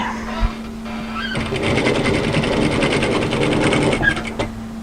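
A sewing machine stitches in a steady fast run along the overlocked edge of a hooded A-line jacket, loud and close, starting after a brief pause and stopping near the end.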